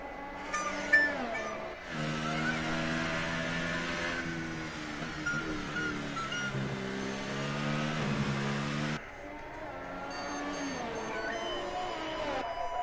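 Race cars on a formation lap of the Australian GP in a racing video game, a loud, sustained engine whine with rising and falling harmonic pitches and an abrupt shift partway through, with no voices over it.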